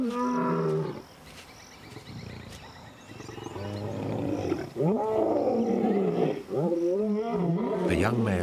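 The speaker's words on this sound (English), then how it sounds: "Their roars to find each other carry far and wide." Young male lions roar in the wild after being separated in unfamiliar territory near Lake Nakuru, deep rolling roars repeating loud and near, one after another, with narration running over them.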